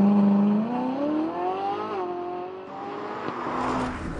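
A Ferrari 458 Italia drives on the road, its engine rising in pitch as it accelerates, easing off, then revving again, loud and close with no talk.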